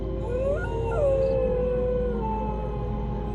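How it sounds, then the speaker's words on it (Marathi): Dogs howl at night in a silent village, with long wavering howls rising and falling close by over a low, steady background hum. No clear barking stands out. "मध्येच कुत्री भुंकण्याचा आवाज यायचा."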